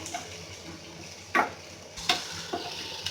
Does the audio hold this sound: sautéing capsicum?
yes